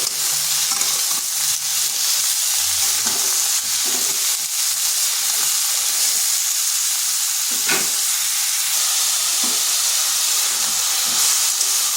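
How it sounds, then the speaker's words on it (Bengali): Sliced ridge gourd fries in a pan over high heat, giving a steady, loud, continuous sizzle with hissing steam and occasional soft stirring scrapes throughout. "ঝিঙ্গাগুলোকে হালকা ভেজে নিচ্ছি ঝিঙ্গাগুলো কিন্তু হাই আঁচে ভেজে নেব"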